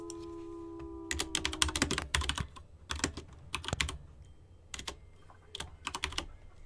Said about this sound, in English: Sorry, I was just typing on my claims.